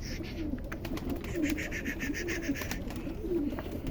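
Pigeons coo in a low rolling rhythm near their coop, repeating several times at moderate volume against a steady outdoor background.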